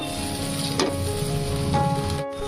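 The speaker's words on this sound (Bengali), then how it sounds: "তো এটাকে এখন আমরা কষিয়ে নেব।" Spice paste loosened with milk sizzles and bubbles steadily in a hot pan for a vegetarian paneer curry, with a couple of soft stirring scrapes and no talking.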